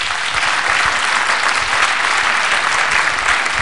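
Loud, dense applause from a conference audience at a closing plenary panel, a sustained wash of many hands clapping evenly throughout with no talking over it.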